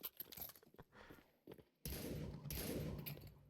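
Gunfire in the video game Counter-Strike 2 erupts as a quick volley of sharp shots, then gives way to a heavier sustained burst of firing and impacts, heard quietly at low overall level.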